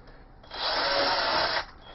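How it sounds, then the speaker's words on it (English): A power drill with a 5 mm bit bores a hole through a number plate, making a single whining burst of about one second. It sounds close and moderately loud against a quiet background. "The next step is to make the holes in the number plate. Recommended size of that drill bit is 5 mm."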